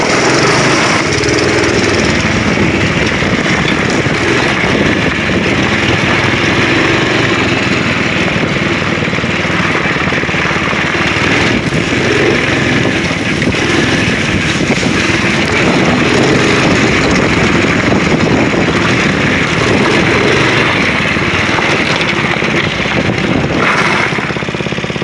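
Small go-kart engine droning continuously at full throttle during a short test drive, loud and close, a steady buzzing roar for the whole stretch with no talk.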